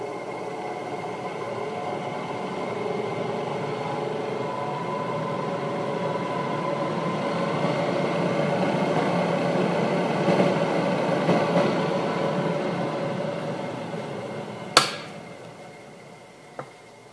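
A centrifuge machine with carbon brushes runs and spins at a set speed, a steady close whirring hum with a faint tonal whine, ending in a sharp click and a smaller tick.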